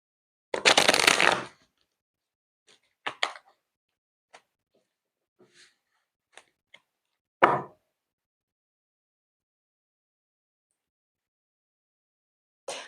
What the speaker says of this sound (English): I've pre-shuffled this, but I always like to shuffle it once again.